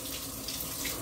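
Hot water runs steadily from a kitchen tap into a sink, a continuous close hiss and splash filling the whole second with no voices.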